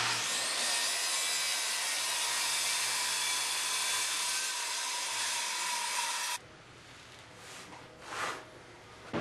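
A power saw cuts through 3/4 inch plywood pieces, a loud, steady high whine for about six seconds that then stops abruptly, followed by quieter scraping and handling noises.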